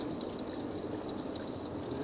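Water rushes steadily through a PVC cool misting system line being flushed out, a continuous, loud hiss and gush without pause.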